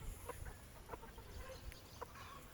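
Chicks in a roughly two-hectare free-range ranging area give soft, scattered clucks and peeps, a few brief calls rising faintly over a quiet outdoor background.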